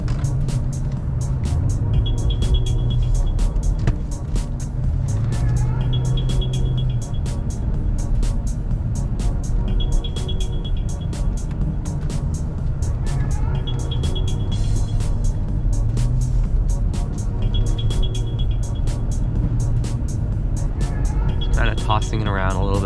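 A Dodge Charger engine drones steadily while drifting through light snow, with a recurring electronic beep chiming at intervals and a voice talking now and then.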